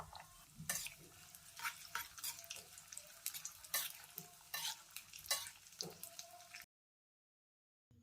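Cashews fried in ghee in a pan sizzle up close, with repeated stirring scrapes and clicks before the sound cuts off abruptly near the end.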